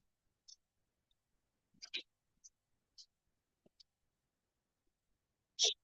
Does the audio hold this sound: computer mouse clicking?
yes